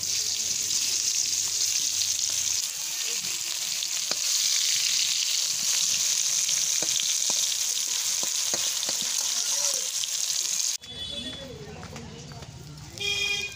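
Eggplant slices fry in hot oil, likely over a wood-fired stove, giving a steady close sizzle with scattered crackles and pops for most of the time before it cuts abruptly to a different, quieter scene with a voice.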